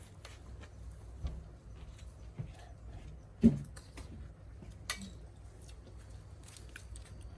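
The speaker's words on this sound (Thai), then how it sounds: "ลูกลักกี้ นักกี้เอาเคี้ยวๆไหมลูก" Quiet, close chewing of a Thai meal of papaya salad with crab and fermented fish, rice noodles and Isaan sausage: soft squishy bites and small clicks, one louder crunch midway, with no talk.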